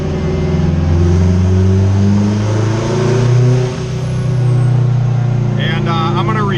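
Turbocharged Acura RSX engine pulling in fifth gear on a dyno, a loud, steady droning rev that climbs, dips briefly, then resumes strongly with a short faint chirp near the end.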